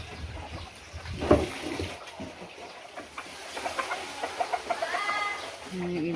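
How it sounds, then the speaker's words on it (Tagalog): Chickens clucking on a farm near a sow that is feeding, giving a run of short, fairly close clucks and calls, with a louder squawk early on. A person talks intermittently among the birds. "Yan yung ibang manok."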